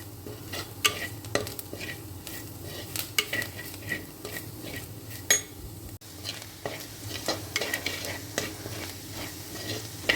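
Pork and raw banana masala being sautéed and stirred in a pan, with steady sizzling under repeated scraping strokes of a utensil against the metal, close and continuous with no talking.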